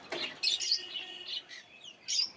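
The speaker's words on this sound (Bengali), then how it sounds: "এইগুলো ফিঞ্চ পাখি দেখালাম আগেই, দেখুন" Finches chirp while feeding, a few short high tweets and squeaky calls in quick, irregular bursts, fairly close and alone.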